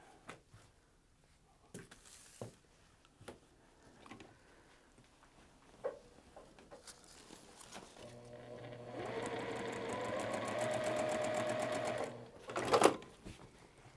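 A sewing machine stitches a short seam on a T-shirt quilt block, a steady close whirring run of rapid stitching lasting several seconds after some quiet handling clicks and rustles.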